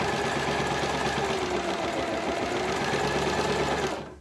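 A sewing machine runs steadily, stitching the straps of a fabric shopping basket, a loud continuous motor whir that holds for about four seconds before cutting off.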